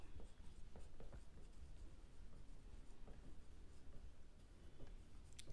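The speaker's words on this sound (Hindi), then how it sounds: "यहाँ पे हम लिखते हैं" Chalk or marker scratches and taps steadily across a board during a class 9 algebra lesson on sets. Quick, uneven strokes and ticks are heard close up, with no talking over them.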